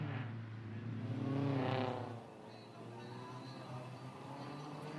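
A Morris Minor on a sprint hill-climb run at Leyburn, its engine droning and rising in a steady whine that swells then fades a little as it passes at moderate distance, continuing as a low hum.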